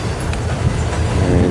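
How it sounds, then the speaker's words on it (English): A long freight train rolls steadily past during snowfall at a Nebraska rail junction, a continuous loud rumble of railcars with faint rhythmic clacking of wheels over rail joints, no talk. "that train is exceedingly long"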